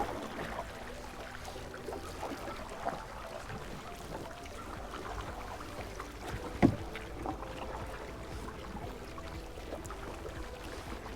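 Canoe paddles dip and pull through lake water at Lake Champlain, with some strokes reversed to back paddle, giving steady watery swishes against light wind and one sharper splash or knock partway through.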